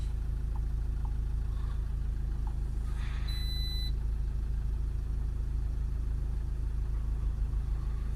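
A Toyota RAV4 2.2 D4D diesel engine with a particulate trap fault idles with a steady low, even rumble throughout, joined midway by a brief high electronic beep and a few light clicks.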